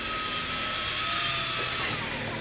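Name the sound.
power drill drilling holes in iron frame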